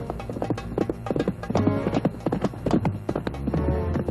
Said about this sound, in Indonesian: Sepertinya kuda ini sedang menuju ke arah perkemahan musuh.